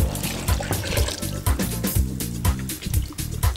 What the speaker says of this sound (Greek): Τώρα θα ρίξουμε το ζωμό ψαριού.